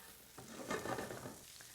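Onion frying in beef fat drippings, a faint, steady sizzle with a brief swell of crackling in the middle, heard close and alone.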